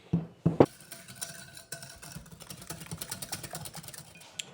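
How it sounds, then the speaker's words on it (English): A spoon clinks and scrapes against a bowl while stirring a sauce seasoned with cayenne pepper, giving a few sharp knocks at first and then quick, irregular stirring taps close by. "And just mix. I should probably use a whisk here."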